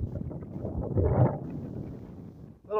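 Breezy wind buffeting a microphone on a hilltop in Theodore Roosevelt National Park, a close rumbling gust that swells midway, followed by a brief voiced sound at the end.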